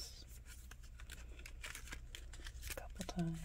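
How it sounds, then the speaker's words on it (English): Tarot cards being cut and shuffled close up in a quiet room, a quick run of soft papery flicks and riffles at an even pace, with a brief murmur of soft speech near the end. "Cut the cards"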